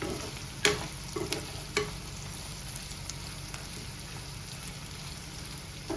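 Prawns frying in a pan as Telugu-style royyala vepudu, giving a quiet steady sizzle with a few distinct clinks from stirring early on.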